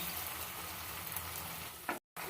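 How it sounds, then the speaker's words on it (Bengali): Ground cumin and chilli paste fry with soft tomato in a pan, making a steady, close sizzle with light stirring, broken by a brief dropout near the end. "জিরে লঙ্কা বাটাটা দিয়ে টমেটোটার সঙ্গে ভালো করে কষিয়ে নেব"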